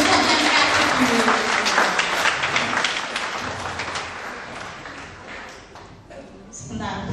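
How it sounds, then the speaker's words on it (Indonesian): A church congregation at a 2017 Christmas service claps for Pak Yusuf, a loud burst of many hands that gradually thins and fades toward the end before a brief swell. "Tepuk tangan buat Pak Yusuf yang dikasih dulu"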